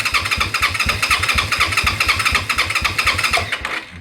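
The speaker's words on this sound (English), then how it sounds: "ignition on, and we don't want the bike to start. That's not the idea. Give it a crank." A Honda Magna 250 V-twin motorcycle engine cranks over on the starter during a compression test in a garage, a loud, rhythmic chugging with even compression pulses that stops near the end without firing.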